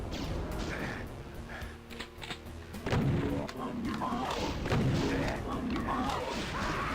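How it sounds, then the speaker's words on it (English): Super shotgun blasts in Doom 2 on Switch, heavy booming shots with crashing impacts and rumbling game noise, a couple of strong hits standing out over a dense, continuous background. "That was a super shotgun I have."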